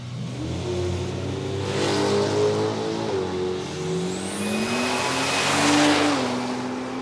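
Drag race car at Palmyra Raceway, Dave Rickard's number 747, accelerating hard down the strip with shifting engine pitch and rising roar, loud and close, trailing off toward half track.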